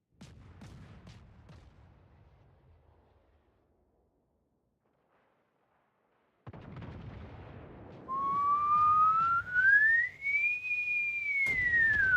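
HE shells fired in a naval battle game: booming gun blasts with a rumbling tail, a pause of near silence, then renewed firing as a rising whistling shell tone climbs and falls over continuous low rumble.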